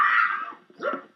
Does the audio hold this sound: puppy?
yes